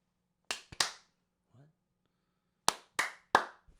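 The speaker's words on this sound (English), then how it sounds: "Hold on, we got to do the clap." A few people on a podcast set clap together in sharp, separate bursts: two quick claps, a pause, then three more spaced hits, close and loud in an otherwise quiet room.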